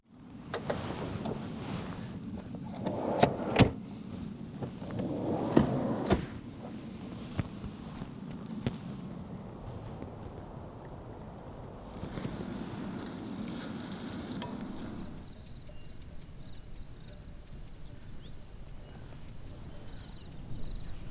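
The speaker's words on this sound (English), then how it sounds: "the wind is picking up" Steady wind gusts buffet the microphone at a muddy spring campsite, a continuous rushing roar with some bumps and knocks, later easing to a quieter hiss with a faint high tone, no voices.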